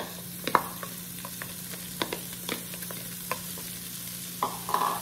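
Chopped onion sizzles steadily in a hot pan while a utensil stirs it, giving scattered scraping knocks over a constant frying hiss, close by with no talking.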